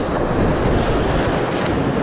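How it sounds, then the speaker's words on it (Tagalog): Big ocean waves surge and wash over a rocky shore in bad weather at a fishing spot, a loud, close, continuous roar of surf mixed with wind buffeting the microphone. "medyo malaki ang alon"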